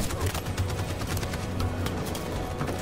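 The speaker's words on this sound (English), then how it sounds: "Yeah, that machine gun is being a pain in the ass" A machine gun in Detroit: Become Human rattles with rapid, continuous fire that blends into a dense, steady barrage of gunfire, heavy throughout.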